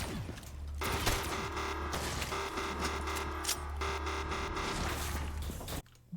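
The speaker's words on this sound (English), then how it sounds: "And you'll know it's finally digging when it makes this noise." In the Moon map of a video game, an excavator digs with a continuous grinding, clanking mechanical roar full of rattles and creaks, loud and steady before cutting off abruptly near the end.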